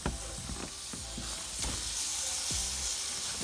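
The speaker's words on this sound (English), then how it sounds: "Flip our ribs so that we can marinate the following side." Pork ribs coated in blueberry BBQ sauce sizzle steadily in the pan, a continuous frying hiss with a few soft knocks as they are turned.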